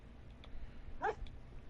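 A single short meow from a cat in the Minecraft video game, faint and brief over a low background hum, with no talk during it.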